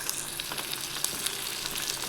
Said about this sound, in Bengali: তেলের মধ্যে পেঁয়াজ, রসুন, লঙ্কাগুলোকে ভাজছি।